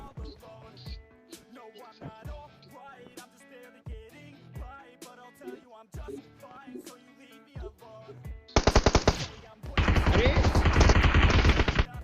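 Gunfire in a shooting video game plays over game music and tones. Scattered sharp shots give way to dense, loud bursts of automatic fire near the end.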